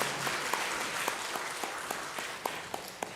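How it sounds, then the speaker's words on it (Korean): A church congregation applauds during a Sunday worship service, a dense wash of many hands clapping with a few sharper claps standing out, moderately distant and sustained without speech. "하나님께 영광의 박수를 올려드리겠습니다"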